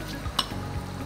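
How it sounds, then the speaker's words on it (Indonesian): A short, soft stirring of a marinade with sesame oil in a bowl, one light scrape of a utensil against the bowl standing out over a steady background hiss. "Ini kita langsung aduk aja semuanya nih"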